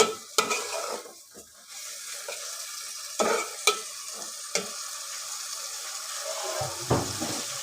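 Chicken meat being stir-fried in a pan, a soft steady sizzle broken by several sharp scrapes and knocks of the utensil against the pan, close and with no talking.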